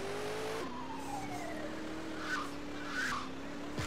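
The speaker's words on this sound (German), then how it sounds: "Ein relativ schnelles Auto." A fast car in the GTA 2 video game drives with a steady engine drone, shifting pitch as it speeds along, with a couple of short tire skids toward the end; no voices.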